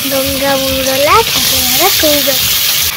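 Small Ganges mourala fish sizzling in a little hot mustard oil, a steady crackling fry heard up close, with wavering tonal voices talking over it throughout.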